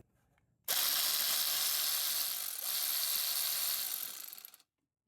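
A power tool whirs for about four seconds while removing a stud from a Jeep JK engine during a driver-side valve cover gasket replacement, a loud, close, steady mechanical buzz that starts abruptly and then cuts off.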